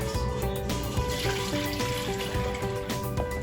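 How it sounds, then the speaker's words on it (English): Strained homemade tomato soup pouring steadily from a container back into a cooking pot, a continuous liquid splashing wash that runs throughout with no talking. "I am gonna pour it back into my pot"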